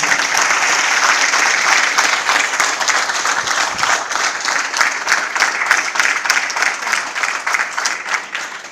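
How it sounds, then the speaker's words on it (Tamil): Audience at a yoga conference at Annamalai University breaks into loud, sustained applause, dense clapping that holds steady from start to finish with no voices over it. "அவர்களுக்கு ஒரு கரகோஷம் போடுங்கள்"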